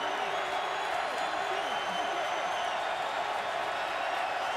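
A stadium crowd at a 2011 NFL game, the Buccaneers at the Saints, keeps up a continuous, even roar with no breaks or peaks.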